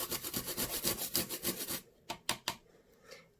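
Material being grated by hand into purple flocking powder, with fast, rough rasping strokes in a steady back-and-forth rhythm up close. The rasping then drops to a few separate scrapes and quiet pauses.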